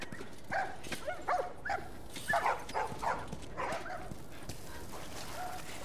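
A small dog in the video game The Last of Us Remastered gives a string of short, faint yips and barks in irregular bursts over a quiet background, then trails off.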